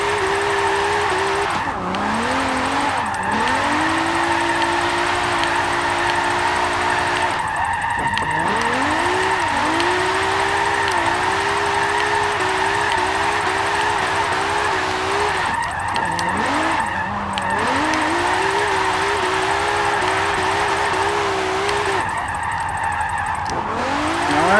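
A 1971 Nissan Skyline 2000GT-R drifting in Forza 7, with a steady high-revving engine drone, repeated tire squeals and dips in pitch as the car shifts and slides through corners.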